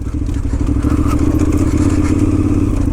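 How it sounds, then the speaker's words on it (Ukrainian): On a KTM 990 Adventure riding off-road over wet ground, the chain slaps hard against the slider with a rapid, continuous clatter over the loud, steady engine rumble. "Калатає дуже сильно ланцюг."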